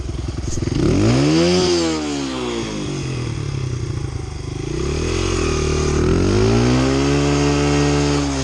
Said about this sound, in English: I'm going to do a burnout.